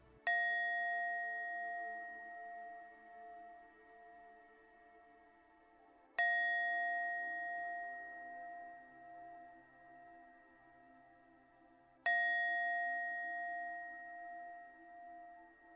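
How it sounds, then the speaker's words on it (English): Three clear, bright chimes ring out evenly spaced about six seconds apart in a quiet room to clear the space, each tone ringing on and slowly fading before the next strike. "You'll hear 3 chimes starting now."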